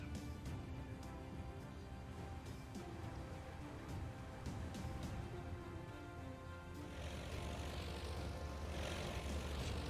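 A carrier plane in the Aircraft Carrier Survival video game drones steadily as its propeller engine runs, and the roar swells louder and brighter near the end as the launch begins.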